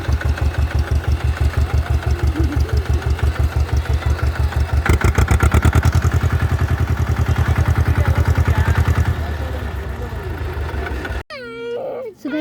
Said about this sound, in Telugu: ఇప్పుడు ట్రాక్టర్ ఎక్కుతున్నాం మేము